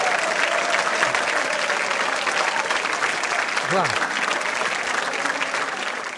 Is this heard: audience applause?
yes